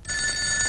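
A telephone bell rings steadily and loudly in a home during a comedy scene, a single continuous electronic ring with no talk over it.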